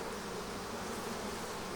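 Honey bees swarming over a hive frame of nurse bees and capped brood: a dense, steady close-up buzz filling the short stretch without pause.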